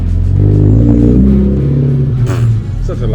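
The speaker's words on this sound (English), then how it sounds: "Such a loud car." A loud car driving away from a van, its engine rumbling and revving strongly and steadily close by for a few seconds, then easing slightly.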